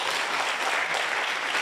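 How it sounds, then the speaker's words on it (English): An audience at a university event in Kenya claps loudly and steadily, a dense, continuous burst of applause from many people in the room. "In anticipation, can we clap for them?"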